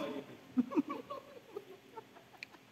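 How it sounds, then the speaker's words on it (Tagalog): Chickens cluck in short, scattered bursts at close range, with a few sharper calls mixed in against light background noise. "May manok dyan ah."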